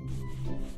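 Towel rubbing over a letter to dry it, a brief close scrubbing rustle with low, rough friction, no speech.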